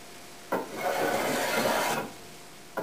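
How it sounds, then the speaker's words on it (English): A freshly sharpened flat sole spokeshave shaves along bent laminated wood in one steady rasping pull of about a second and a half, close and clear, with the blade catching briefly again at the end. "This is a flat sole spoke shave that I just sharpened up. Very easy. Just pull along, take off all the high spots"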